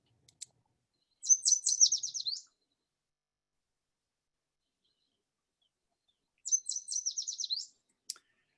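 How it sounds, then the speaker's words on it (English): Two bright, quick warbling songs of a yellow warbler, each a rapid run of high sweet notes about a second long, separated by several seconds of silence, with faint clicks around them. "It's a yellow warbler. Here's what they sound like."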